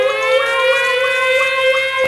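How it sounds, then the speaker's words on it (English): A synthetic siren sound effect holds one steady, loud, piercing tone rich in harmonics, with a slight wavering pulse, sounding alone and unbroken throughout. "I feel like I need a problematic siren,"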